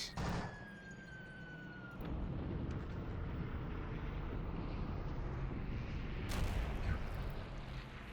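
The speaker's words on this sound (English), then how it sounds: "let me see if I can call in an airstrike on this. Yeah, let's call in the JU-87." Ju-87 dive bomber airstrike in the Panzer Campaigns Stalingrad war game: a descending siren-like wail at the start, then a sustained roaring rumble of impacts and fire, with a sharp burst near the end.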